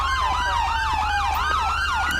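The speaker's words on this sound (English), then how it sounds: "And we'll turn the siren off." Police car siren in the GTA 5 LSPDFR police mod, a loud wailing tone that sweeps up and down in repeated cycles roughly every half second, close and continuous over a low engine rumble.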